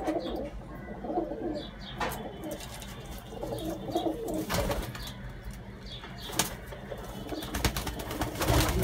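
Indian high flying and Madrasi pigeons coo from a loft in Kolkata, giving soft, repeated low coos at close range, with occasional chirps and faint rustling over a low background hum.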